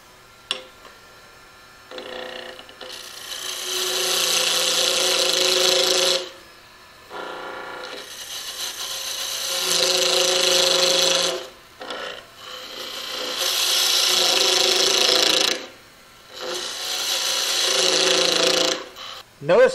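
A wood lathe spins a spindle blank as a spindle roughing gouge cuts it in several long, loud scraping passes with brief pauses between, the motor humming underneath.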